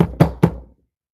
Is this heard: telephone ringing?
no